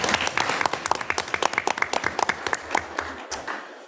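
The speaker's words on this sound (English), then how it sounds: "we applaud each and every one of them today and every day" An audience at a board of education meeting applauds school nurses, a crisp round of clapping close by that thins into scattered individual claps toward the end.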